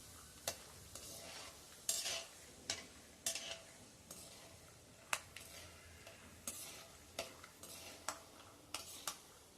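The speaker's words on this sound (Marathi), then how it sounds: "सतत हलवत असे आपण हे दाणे तळायचे" Peanuts fried in a small amount of hot oil and stirred constantly make a faint background sizzle with irregular sharp clicks and scrapes of a spoon against the pan, quiet and close, with no voices.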